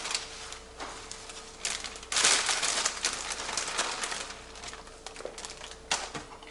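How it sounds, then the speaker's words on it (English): A bag of spinach crinkles and rustles in irregular bursts, crisp plastic crackling close by with a few sharper taps and handling noises. "I'm gonna add the spinach. So I'm adding a whole bag of spinach about this size."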